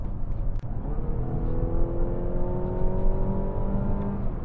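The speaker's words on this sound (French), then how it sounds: "Entendez le chant assez désagréable du 4 cylindres" A large, heavy car's four-cylinder engine strains under full acceleration, its droning note climbing steadily in pitch as the revs rise, loud and continuous throughout.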